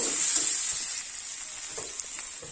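Potatoes fry with spices in a hot pan, a steady close hiss and crackle continuing evenly throughout with faint scraping underneath.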